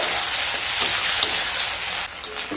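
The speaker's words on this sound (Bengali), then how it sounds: "টমেটো দিয়ে আবার একটু ভেজে নেব" Onion and tomato fry in a hot pan, giving a steady close sizzle with brief louder pops and crackles, heard alone without any talk.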